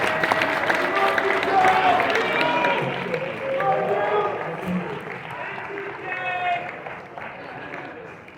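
A crowd at a Warhammer tournament award ceremony in Las Vegas claps in a burst of applause that rises, dips and swells again, with a voice speaking over it.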